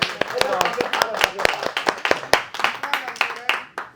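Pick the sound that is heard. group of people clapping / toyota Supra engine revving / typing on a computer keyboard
group of people clapping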